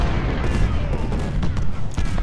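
Cannon and rifle fire rumble in the Civil War strategy game Ultimate General at Harrisons Creek, heavy overlapping booms and crackling volleys in a loud continuous barrage.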